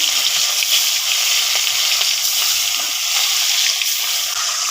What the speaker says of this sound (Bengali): এবার আমি এক এক করে মাছগুলো দিয়ে দিচ্ছি